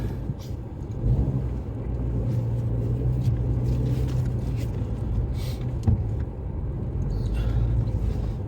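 A car drives home from a market, a steady low engine and road rumble running throughout at moderate level, with a few faint knocks and no talk.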